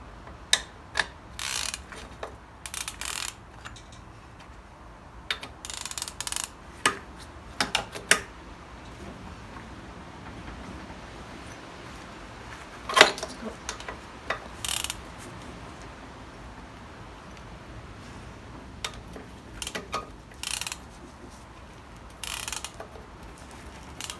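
Short bursts of ratchet clicking tighten the head bolts on a Briggs & Stratton 6hp engine from a 1962 Bolens 600, with quiet pauses between passes and an occasional metallic tap.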